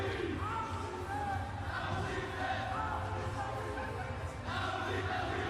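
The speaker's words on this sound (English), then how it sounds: "Oh, USA, their supporters." Supporters of the USA team cheer in an indoor arena at an Olympic qualification match, a dense, continuous crowd roar heard at a distance with indistinct shouting mixed in.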